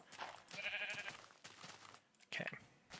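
Sheep bleating in a video game, a short wavering bleat early on and another brief cry near the end, heard over game sounds with a voice talking in between.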